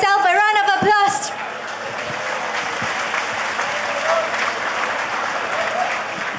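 Sustained applause from a large audience at a Malaysian political party candidate announcement event, loud and steady for several seconds, following a brief stretch of a man's speech at the start.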